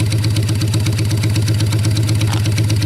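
A motorcycle engine idles close by, giving a steady, loud low rumble with an even pulsing beat throughout and no voices over it.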